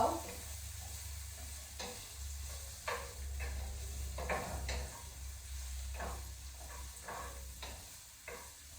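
Chicken cooks in a pan on medium heat, a soft steady sizzle with a low hum beneath and scattered faint clicks and scrapes throughout.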